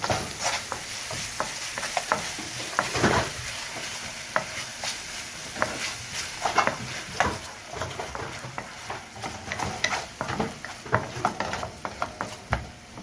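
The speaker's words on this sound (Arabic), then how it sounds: "وبعدين بنديله تشويحه حلوه كده" Ketchup and mustard sauce for a shrimp tagine stirred and sautéed in a pan, with a steady sizzle and frequent scraping stirs, close and fairly loud throughout with no talking.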